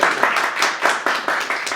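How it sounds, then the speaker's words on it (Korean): Audience clapping at a lecture preparing for an Israel pilgrimage, crisp, rhythmic hand claps in a steady beat, fairly close and loud, with no talk over it. "잘 부탁하는 마음으로 박수로 모시도록 하겠습니다."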